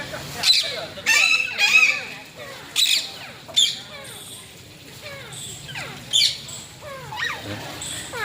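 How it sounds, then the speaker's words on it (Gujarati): Parrots in the Sakkarbaug zoo aviary in Junagadh give repeated sharp, rising squawks in irregular bursts. People talk nearby beneath the calls. "નકરા પોપટ છે આમાં"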